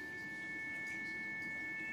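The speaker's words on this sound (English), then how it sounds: "I can add another sine wave" Several pure steady tones sounding together as a combined electronic hum, with two close high pitches and a lower one held constant and even, clean and unbroken throughout.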